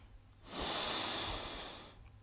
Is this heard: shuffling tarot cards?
no